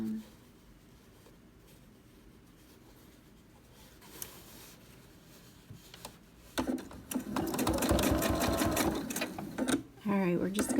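A sewing machine stitches binding onto a quilt, with quiet handling and a voice at first, then a fast, close, rhythmic run of stitching that pauses briefly before starting again.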